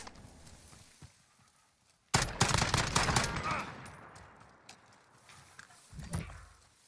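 Gunfire in the video game Modern Warfare: after a quiet stretch, a sudden loud burst of rapid automatic shots, then sparser scattered firing that fades, with another short burst near the end.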